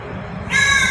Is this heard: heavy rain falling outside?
no